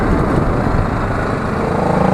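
Motorbike engine droning steadily and loudly as it rides along a mountain road, a continuous close, rough hum with no talking over it.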